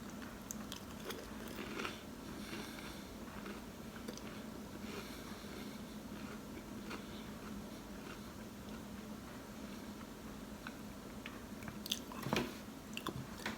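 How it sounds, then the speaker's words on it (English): Close, quiet chewing and biting on a sweet food at an off-grid homestead, a steady run of soft crunchy mouth sounds with a few sharper bites near the end, no talk. "Sorry for y'all hearing me chew, but at least you're not seeing me eat."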